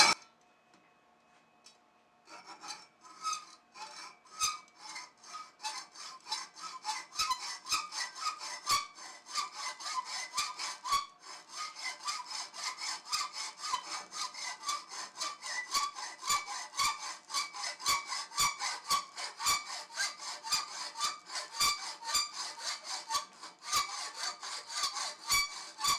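A hand saw cuts through metal stock in steady back-and-forth strokes, starting slowly and then quickening into a regular rasping rhythm that stays close and fairly quiet, with no voices.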